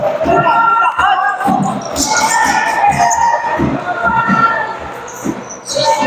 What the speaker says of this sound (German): Das Publikum unterstützt sie